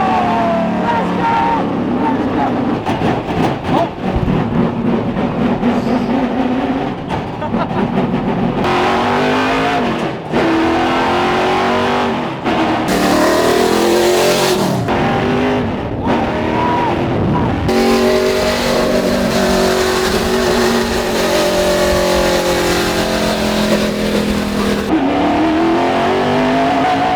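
An illegal NASCAR race car drives on a road, its loud engine revving and shifting up and down continuously from inside the car, with some tire noise and occasional shouting over it.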